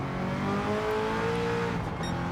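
A new Corvette's engine revs hard and sustained while drifting sideways, pitch rising and sliding with a steady loud roar and faint tire squeal near the end, no voices.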